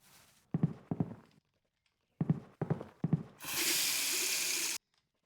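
A tap fills a puppy's water bowl in a home life-simulation game, a loud steady rush of running water lasting about a second and a half after a few soft clicks and steps.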